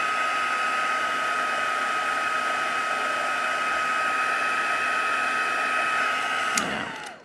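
A heat tool set on low blows steadily while drying ink on a stamped card, a loud constant whirring hiss that runs nearly the whole time and then cuts off abruptly near the end.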